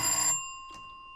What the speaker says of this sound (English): Oh, just a minute. There's the phone.